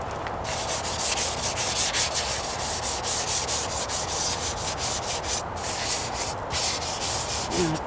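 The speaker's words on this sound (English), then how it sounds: "I'm being conscious of how I'm sanding" Continuous close-up scrubbing of wet sandpaper over the painted trunk of a 1998 Toyota Corolla, rattle-can finish, steady rhythmic back-and-forth rasping strokes with no voices.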